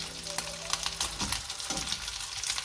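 Smoked pork fat and sausages fry in a pan, a soft continuous sizzle with a few crackling pops and light scraping clicks, fairly quiet and alone.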